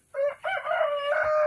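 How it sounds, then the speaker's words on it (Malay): A rooster crows once nearby, a loud drawn-out call that breaks off briefly and then rises into a long sustained note, alone against a quiet background. "Ayam."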